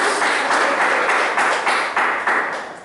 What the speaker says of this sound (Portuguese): Pode aplaudir a Deus